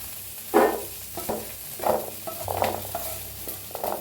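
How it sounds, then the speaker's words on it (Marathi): Green peas roast in oil in a pan while a spoon stirs them, with several distinct scraping stir strokes over a soft steady sizzle, close and fairly loud. "हलवून भाजून घ्या चांगलं। छान असं मटर भाजले"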